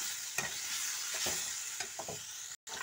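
Potatoes and chopped onions fry in a pan, a soft steady sizzle broken by several scraping stirs of a spatula, close and fairly quiet, with a brief dropout near the end and no voices.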